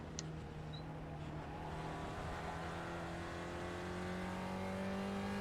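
Spec Racer Ford engine in iRacing at Sebring, a sustained revving drone climbing steadily in pitch as the car accelerates, loud and continuous, with a faint tire squeal near the start.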